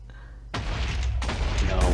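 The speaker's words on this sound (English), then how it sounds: "Blow them up, cannon. Blow them up." Cannon explosions in the Minecraft Missile Wars game, a sudden loud boom at about half a second followed by sustained rumbling blasts, with a second burst near the end, under excited player chatter.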